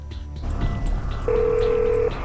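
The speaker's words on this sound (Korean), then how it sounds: "911에 다급한 목소리로 신고 전화가 걸려왔습니다" A call is placed to 911 and a steady ringback tone sounds on the phone line for about a second, loud over a busy, noisy background.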